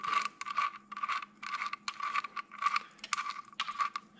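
A ratchet clicks in short repeated bursts while loosening a retaining nut on a 1999 Ram 2500 headlight housing, close and rhythmic with brief pauses between strokes.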